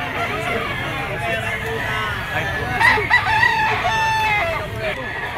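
A yellow-legged Sweater stag gamefowl rooster lets out a wavering crow midway, heard at moderate distance over steady ambient noise and faint murmuring.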